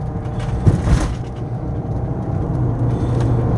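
A 1996 Winnebago Volkswagen Class B motorhome drives on I-75 South among trucks and traffic, with a steady low engine and road rumble and broadband tire noise throughout, and a brief bump partway through.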